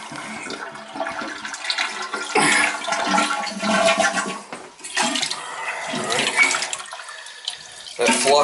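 A toilet flushing while a summer home is winterized, water rushing and gurgling in several loud surges over several seconds, close in a small room.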